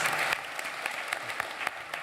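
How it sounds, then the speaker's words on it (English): Audience applause at a charity developers' event, a short, dense wash of clapping that stays even, with a few sharper individual claps standing out. "Let's give him a big round of applause."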